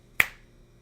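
A single sharp finger snap rings out close and loud in an otherwise quiet room, with a short decaying tail after the crack.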